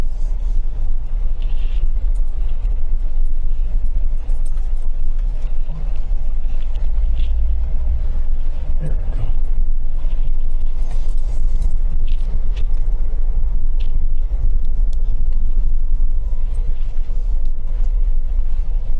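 A 4-wheel-drive vehicle rolls along a rough forest trail road near a fire lookout, with a loud, continuous low rumble of engine and tires, occasional bumps and thuds, and no voices.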